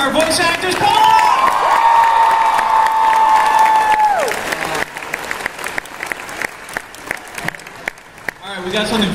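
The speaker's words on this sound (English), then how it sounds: "Let's all get a big round of applause for our voice actors." A convention crowd applauds and cheers for voice actors at a panel, loud sustained clapping with whoops, and an amplified voice calling out over the first half.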